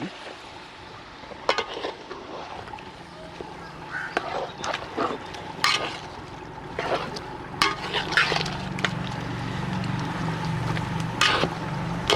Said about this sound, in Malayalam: ആവശ്യത്തിന് ചൂടുവെള്ളം ഒഴിച്ചു കൊടുക്കാം.